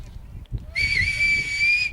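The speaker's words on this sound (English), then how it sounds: "that's right before the halftime whistle" A referee's long, shrill whistle blast at an Australian rules football match blows steady for about a second, sounding over crowd noise and low voices.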